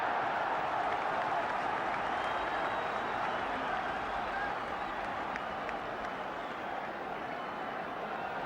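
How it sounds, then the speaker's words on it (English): Football crowd at a 1978/79 Division One match between Wolves and Man Utd, a steady roar of cheering and scattered applause filling the stadium throughout, broad and continuous without clear breaks. "The crowd giving Wolves the encouragement they need, perhaps scenting another revival."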